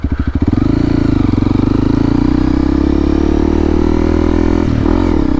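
A Honda CRF300L motorcycle with an aftermarket exhaust starts up with a few chugging pulses, then settles into a loud, close, steady throbbing idle with a brief blip near the end.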